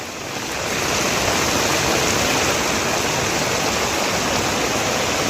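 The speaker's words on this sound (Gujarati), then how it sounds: "ગામના રસ્તા જળબંબાકાર બન્યા છે તો શેરીઓમાં પણ નદીઓ વહેતી થઈ હોય એ પ્રકારના દ્રશ્યો જોવા મળ્યા" Floodwater rushing through village streets after heavy monsoon rain, a steady loud broadband roar that swells in over the first second and then holds constant, with no voices.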